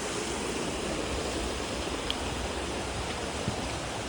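A small river near the Delaware Water Gap on the Appalachian Trail flows with a steady, even wash of water at moderate distance, broken only by a couple of faint ticks.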